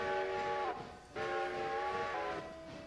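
A steam-style train whistle in a modded railroad video game sounds in loud, sustained chord-like blasts, two long toots with a short gap between, then a third starting near the end.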